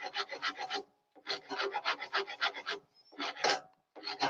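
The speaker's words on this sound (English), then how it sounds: "Still some, obviously there's hand sanding to do." Hand sanding of a wooden barrel: close, dry rasping strokes in quick rhythmic bursts, broken by short pauses.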